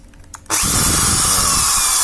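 A Tekiro RYU RDR 10-3 RE 10 mm power drill kicks on abruptly after a brief quiet moment and whirs loudly at high speed without letting up.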